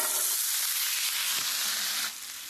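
Ground pork and ground beef sizzle loudly in a large nonstick skillet, a bright crackling hiss that eases off suddenly near the end.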